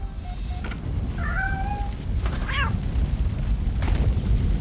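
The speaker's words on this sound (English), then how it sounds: "Why is there a cat over there?" In RoboCop: Rogue City, a cat meows twice amid a burning building, short wavering cries heard faintly over a dense rumble of fire and background noise.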